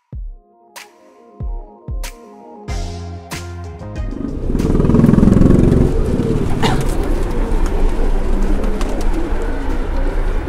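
Pigeons coo and flutter, opening with a few separate soft thumps before a dense, steady wash of bird sound fills the rest at fairly close range, with no talk.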